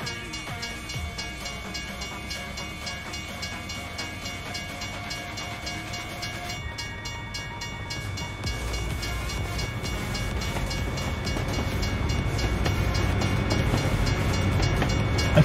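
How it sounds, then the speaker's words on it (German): Trains pass in American Truck Simulator, a rumbling rail roll with rhythmic wheel clatter and a tonal horn-like drone that swells louder as the train nears, continuous with no talk. "Züge!"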